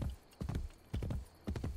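A horse's hooves clip-clop while riding in the video game Assassin's Creed Brotherhood, four distinct paired beats at an even trotting rhythm, close and moderately loud with no talk over them.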